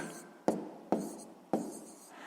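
A pen writes numbers on paper during column multiplication of 6.28 by 4.2, with three sharp, close scratchy strokes, each trailing off into softer scribbling, at a quiet level.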